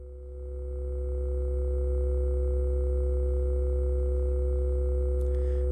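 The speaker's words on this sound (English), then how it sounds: "Let's listen to A times B plus C now." A steady synthesizer tone fades in over the first second or two and then holds at an even, unchanging pitch, alone and fairly quiet.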